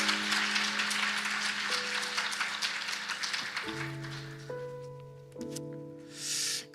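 A church congregation in Korea applauds to welcome a guest preacher. Dense clapping over sustained keyboard or organ chords fades gradually as the music continues alone.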